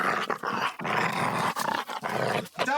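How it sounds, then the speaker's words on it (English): A dog growls and barks in rough, rumbling bursts close by, with short pauses between outbursts. "My dog's barking at something."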